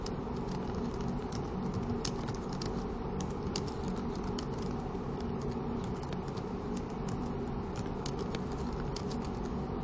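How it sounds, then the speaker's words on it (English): Typing on a computer keyboard in a word processor, a steady soft patter of keystrokes over a constant low hum, quiet and continuous with no talking. "I'm going to open my word processor and just type a few things."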